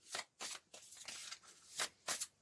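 A deck of oracle cards is shuffled and handled at close range, giving quiet bursts of crisp riffling and sliding with short pauses between, and no voice over it.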